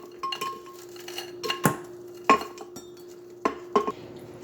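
Broccoli is dropped into a blender jar in a kitchen, making a scattered series of sharp clinks and knocks against glass, irregularly spaced and close by, with no voices.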